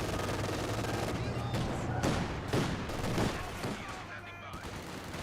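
Machine gun fire rattles from a garrisoned building in Company of Heroes 2, with repeated bursts over a busy battle din of distant gunfire and booms.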